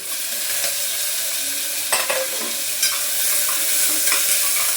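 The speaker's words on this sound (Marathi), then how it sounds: "त्यासोबतच आता टमाटा पण टाकते." Tomato dropping into onions frying in a pan, with a constant loud sizzle and a few brief spatula scrapes and clicks over it, heard up close.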